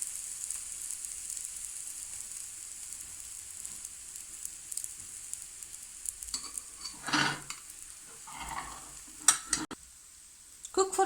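A chickpea-flour egg omelette cooking in a pan, with a quiet, steady sizzle and occasional stirring or scraping sounds toward the end.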